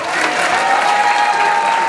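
An audience applauds at a tribute gathering in Paris with steady, dense clapping throughout, close and fairly loud, along with a faint sustained tone.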